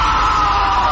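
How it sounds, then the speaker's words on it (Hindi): A man screams in fear in a horror story, a short, loud, strained yell held steady for under a second. "उसकी चीख निकल गई।"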